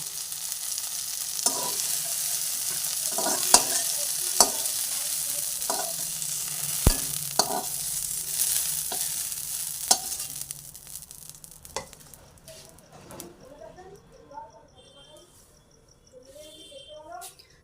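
Eggplant fries in hot oil in a pan with a steady hiss and crackle, stirred now and then with scraping knocks; the sizzle fades midway, and chirping birds and insects come through faintly afterward.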